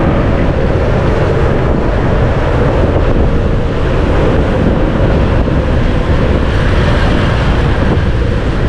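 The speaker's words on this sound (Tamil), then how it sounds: "எனி டைம் வந்து எல்லா இடத்துலையும் பீச் காற்று அடிச்சுட்டு இருக்கு" Steady beach wind in the Maldives buffets the microphone as a continuous loud, broadband roar, with a faint wash of surf underneath and no voices.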